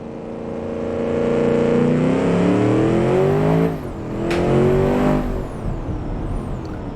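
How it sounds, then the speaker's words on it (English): A 900-horsepower sports car in the Automation game laps a test track, its engine note loud and steady as it holds speed, then dropping briefly and rising again as it accelerates out of a corner, with no talk over it. "Let's see how this now 900 horsepower car goes around the test track."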